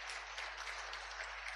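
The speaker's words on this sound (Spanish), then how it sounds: "Dale un aplauso, Señor" A church congregation clapping during a Spanish-language sermon, a continuous wash of applause heard faintly and at a distance, with a low hum beneath and no voices.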